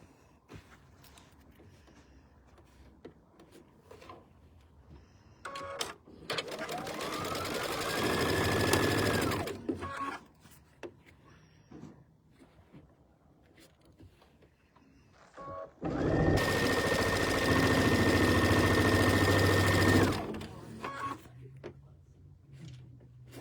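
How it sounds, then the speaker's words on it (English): A sewing machine stitches quilt pieces together in two loud sustained runs, each a steady whirring drone of a few seconds, with quieter handling clicks and rustles between them; close and prominent, with no talking. "So let's stitch this together really quick."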